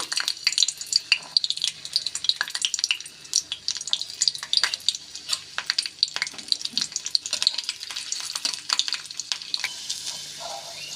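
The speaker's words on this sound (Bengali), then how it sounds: "এখন ওই তেলের মধ্যে দিয়ে দিচ্ছি রসুন" Garlic cloves fry in hot oil left from frying dried red chillies, crackling and popping in rapid irregular bursts over a light sizzle, close and fairly loud, with occasional stirring.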